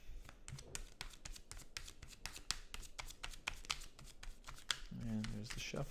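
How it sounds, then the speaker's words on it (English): Tarot cards being riffled and shuffled close up, a rapid run of crisp flicking snaps, followed by a brief low voice near the end. "And there's the shuffle."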